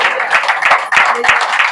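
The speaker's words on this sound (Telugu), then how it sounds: "చప్పట్లు కొట్టండి అందరూ." A church congregation claps hands together at a pastor's sermon, a loud, close burst of many palms striking in an uneven, lively rhythm.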